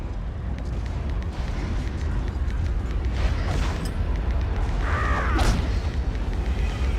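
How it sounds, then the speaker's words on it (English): An explosion in the online game Warhammer Online: Return of Reckoning, a loud, sustained low rumbling boom over dense game noise, with a brief whooshing swell toward the end. "we come out in the explosion"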